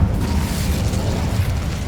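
The Incendio fire spell in the game Hogwarts Legacy lets out a loud, dense roaring burst of flame that holds a rumbling low rush throughout, with no talk over it.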